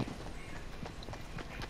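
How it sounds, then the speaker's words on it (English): Footsteps in the video game Fortnite, a quick series of soft, repeated steps across a busy game soundscape with steady background noise, moderately loud and uneven in rhythm. "I heard footsteps."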